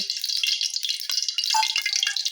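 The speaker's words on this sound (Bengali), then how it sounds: "এতে আমি একটু সামান্য পানি দিব" Water poured from a small container onto flour, egg and salt in a bowl makes a close, light trickling and splashing with small drips.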